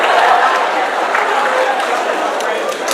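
Awards ceremony cheer section cheering and clapping, a loud sustained wash of crowd noise with shouts that stays steady for the whole stretch.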